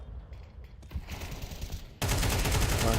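Gunfire in a competitive video game shooter match, with faint scattered shots at first, then a sudden loud, dense burst of rapid automatic fire that continues to the end.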